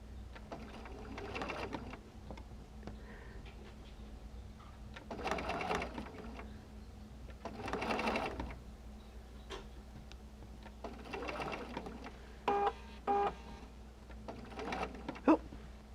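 A sewing machine stitches quilt fabric for a Drunkard's Path circle block in several separate bursts of running, with pauses between them and a steady low hum beneath.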